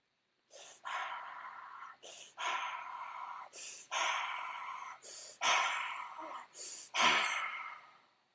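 Heavy, forceful breaths during a maximum-weight press: about seven loud, rasping exhales and inhales in an irregular rhythm, close up, with short pauses between them and no speech.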